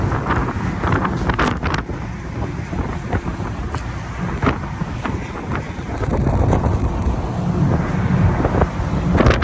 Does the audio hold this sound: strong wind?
yes